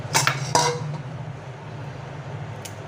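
Cashews, almonds, makhana, pistachios and chironji stirred and dry-roasted in a pan for a Janmashtami offering, with a couple of scraping clinks of a spoon against the metal early on, then a quiet steady background hum.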